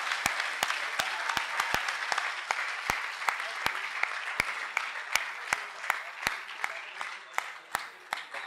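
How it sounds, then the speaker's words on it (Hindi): Audience at a university mushaira poetry gathering in Lahore applauding, a sustained wash of clapping with sharp individual claps popping out near and loud. "अपने लिए तालियां बजा दीजिए।"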